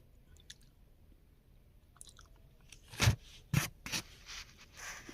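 Someone chewing dates up close, a few soft crunches and sticky bites in the first seconds, then two loud crunching bites followed by quieter mouth sounds in a quiet room.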